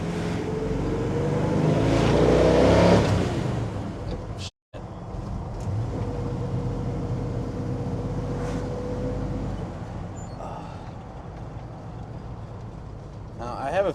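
A 1970 Chevrolet K10 truck with a small block 383 stroker accelerates, its exhaust swelling to a loud, rough roar, breaking briefly, then settling into a steady drone that rises again toward the end.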